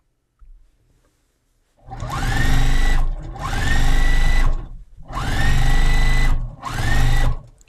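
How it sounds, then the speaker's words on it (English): A sewing machine binding a Christmas table runner runs loud and close in four bursts of rapid mechanical whirring, each lasting a second or so, separated by short pauses. "is the sewing machine crazy with the microphone? Is it louder than it usually is?"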